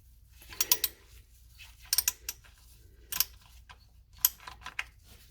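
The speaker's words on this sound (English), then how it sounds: "is the oil filter removal tool scraping against the transmission dust cover" Oil filter removal tool with a plastic cap scraping against the transmission dust cover of a 1977 C3 Corvette, several short gritty rasps in quick clusters, close and fairly quiet, no talk.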